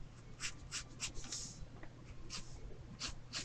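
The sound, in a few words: pencil lightly sketching on paper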